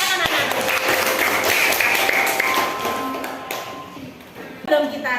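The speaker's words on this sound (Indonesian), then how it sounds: "Tepuk tangan anak-anak." A group of children in a classroom bursts into rapid clapping and applause, fairly close, fading after a few seconds before a brief voice.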